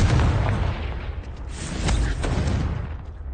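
The Confringo blasting curse explodes in Hogwarts Legacy, a rumbling, booming burst with a crackling tail and a few sharp pops, loud and sustained, no talk.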